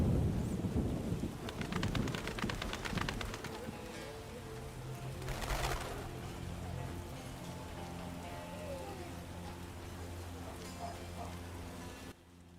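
Rain falls outdoors in a garden, a steady continuous patter with music playing over it and a faint voice at moments.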